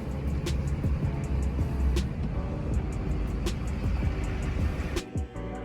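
Duramax diesel pickup truck rolling into a shop, a continuous engine rumble close by with sharp repeated clicks and ticks over it and a brief drop near the end.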